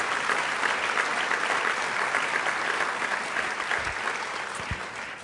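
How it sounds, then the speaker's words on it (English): Sustained applause fills the room at a luncheon marking the 50th anniversary of Art in Embassies, a steady even clapping from a seated crowd that holds throughout and eases slightly toward the end. "And yes, let's give that a round of applause."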